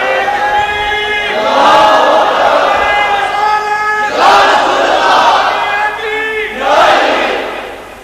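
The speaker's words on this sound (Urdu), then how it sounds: "ایک بلند آواز سے یا رسول اللہ کا نعرہ لگ جائے گا" A crowd gathered in a mosque before a religious speech shouts the slogan "Ya Rasool Allah" in unison, loud, with three swelling chanted bursts of many voices.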